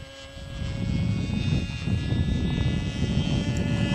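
A model airplane's propeller engine drones steadily while the plane flies a figure eight, a constant buzzing hum at moderate distance with no talking.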